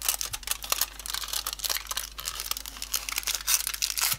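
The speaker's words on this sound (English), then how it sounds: "Grab my foil, put it on top." Aluminium foil handled and wrapped over a nail covered with cotton wool during gel polish removal, giving continuous close crinkling and crumpling with no talk.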